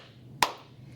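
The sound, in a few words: hands clapping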